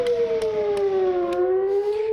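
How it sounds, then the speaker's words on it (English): A loud air raid siren wails steadily during incoming rocket interceptions, its pitch dipping slightly and then rising again, sounding continuous and alone. "You can hear the sirens behind me as incoming rocket rounds are being intercepted"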